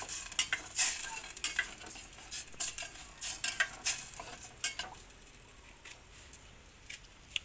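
Spoon stirring Mekus Mekus soup in a cooking pot, a quick run of light scraping clinks and clatters that slows and fades toward the end, faint and close, no talking.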